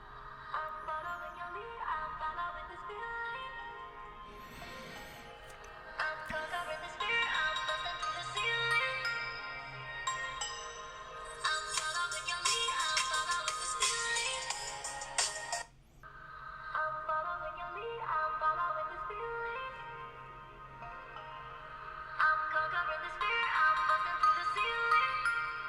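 A phone ringtone melody played at maximum volume on the single loudspeakers of a Samsung Galaxy A51 and a Redmi K30, heard in two passes with a short break between them, bright and close with no voices.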